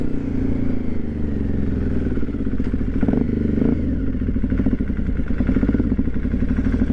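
Aprilia Shiver 750 motorcycle engine running while riding, a close, loud, uneven throb with clattering and thumping from the bike, the engine struggling and needing throttle to stay alive.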